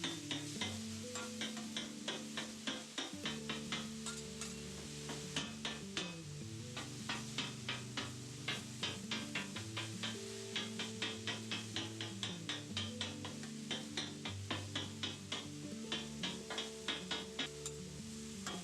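Ground beef being broken up and scraped with a metal spatula on a hot griddle, a long run of rapid rhythmic clicks and scrapes over a steady sizzle, close and clear with no talking.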